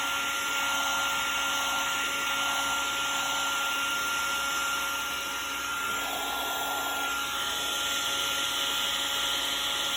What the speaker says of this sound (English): Especially this is kind of a high heat gun.